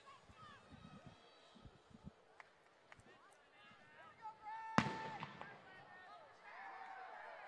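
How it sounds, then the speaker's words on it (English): A cannon fires at a women's college soccer match to signal the start of the second half: one sharp, loud outdoor boom cuts through steady crowd noise and distant voices, then fades into a lingering rumble. "There goes the cannon to mark the start of the second half."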